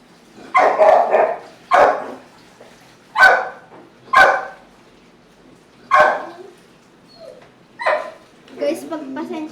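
A dog barks close and loud, about seven sharp separate barks spaced irregularly, with quiet pauses between them.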